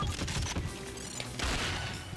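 Sniper rifle fire in the video game 007 Nightfire, a loud sharp crack over busy game noise with more gunfire and clatter following, no talking.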